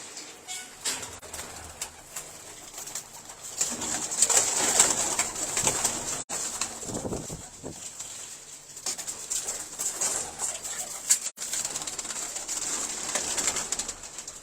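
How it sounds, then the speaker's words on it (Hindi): Soft, low cooing from several pigeons kept for sale indoors nearby, with occasional bursts of wing flapping and light pattering in an otherwise quiet space. "पहले कबूतर आपको चंद पकड़ के दिखा दे।"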